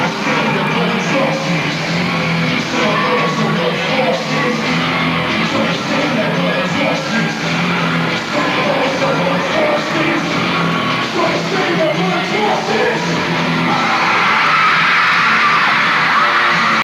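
Huge concert crowd of teenagers screaming and yelling at a song, a dense continuous roar of shrieks filling the whole stretch and swelling slightly louder near the end, with no clear speech.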